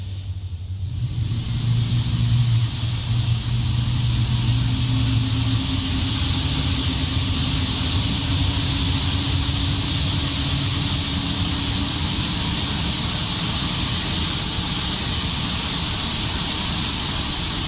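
An Airbus A350 jet engine spins up in Microsoft Flight Simulator, giving a loud, steady turbine roar with a rising low whine that swells and holds across the whole stretch, alone without talk.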